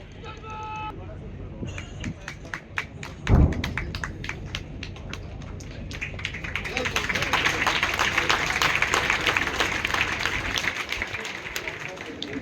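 An Indian Army firepower demonstration at Devlali, Nashik, where artillery, including M777 ultralight howitzers, fires on a hilltop target. One deep distant boom lands amid a murmuring crowd, followed by rising background bustle and scattered clapping.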